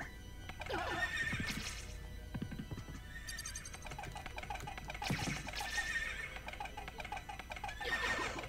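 Horses neighing in Castlevania: Symphony of the Night, three loud whinnies spaced a few seconds apart with hoof clip-clops between them over a steady game background.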